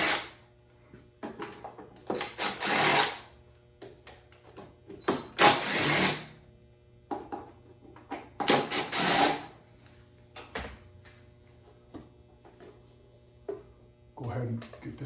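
Screws are backed out of the cover of a Graco 1095 paint sprayer with a T25 Torx driver, a series of short whirring and clicking bursts close by, separated by quiet gaps.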